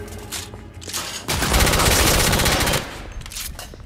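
Sustained rapid gunfire in the video game The Order 1886, a dense loud burst of automatic shots swelling through the middle after lighter scattered shots, with no talk over it.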